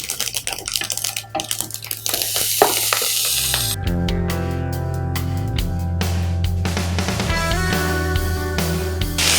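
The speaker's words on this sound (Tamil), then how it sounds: "இதோட கீரை சேர்த்துக்கலாம்." Agathi spinach leaves drop into hot oil and sizzle loudly while being sautéed, a bright hissing crackle that continues with clattering stirring and rising sputter, close and without speech.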